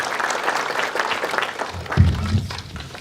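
A church congregation applauds loudly and continuously, a dense wash of many hands clapping, with a low thump near the end as it begins to thin out.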